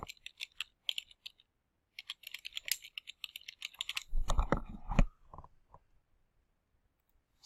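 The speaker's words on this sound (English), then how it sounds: "enter the barcode here, and click Receive." Close, quick keyboard typing entering a barcode into library serials software, bursts of clicky keystrokes with a brief heavier thump or two midway and pauses between runs, no talking.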